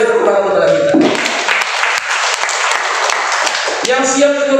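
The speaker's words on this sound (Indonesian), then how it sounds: "Sekali lagi tepuk tangan kepada kita." A church congregation breaks into loud, dense applause that swells between stretches of a preacher's amplified voice, which is heard talking just before and just after.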